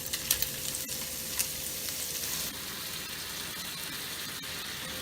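Mushrooms sizzle and fry in a pan with a steady, close crackle, broken by a few clinks and stirring sounds, and no voices.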